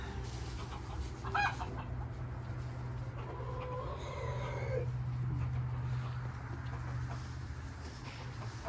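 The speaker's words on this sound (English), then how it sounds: "Birds are upset." Agitated farm chickens cluck and squawk at moderate distance, a busy overlapping chorus of fowl calls with a steady low hum in the background and no talking.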